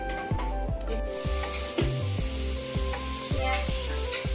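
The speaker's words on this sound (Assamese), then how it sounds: "ঢালি পেলাই এতিয়া ভাজি আছোঁ নাৰিকল আৰু অমিতা।" Coconut and papaya frying in cow ghee, a steady loud sizzle with repeated scraping strokes of a spoon against the pan, close and continuous.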